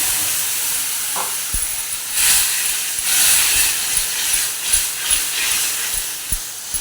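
Water poured into a hot pan of spiced taro hisses and sizzles into steam, a broad loud hiss that swells and eases with a few clinks of stirring, no talk.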